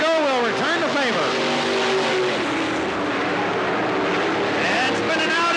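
Race cars roar around the Cottage Grove Speedway track, loud engine whine rising and falling continuously as they pass, with an announcer calling the race over the top.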